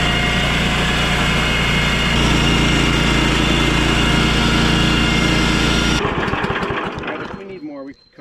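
A Predator small gasoline engine running in a garden, a loud steady buzzing drone close by that holds for several seconds, then changes and dies down toward the end.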